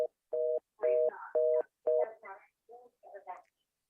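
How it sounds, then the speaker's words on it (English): Quiet telephone tones beep in short, evenly spaced bursts, joined by faint muffled voice-like sounds toward the end. "I hear a dial tone, but I hear you."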